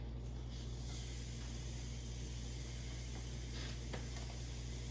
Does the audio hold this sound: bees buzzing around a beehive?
no